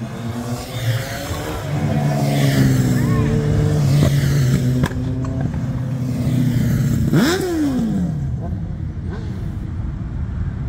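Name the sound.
motorcycles revving at a car meet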